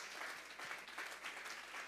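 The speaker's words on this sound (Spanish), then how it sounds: "Vamos a darle un fuerte aplauso pues al Señor esta tarde" Church congregation applauding during a service, dense continuous clapping from many people with pulsing swells, fairly distant and even in level from start to finish.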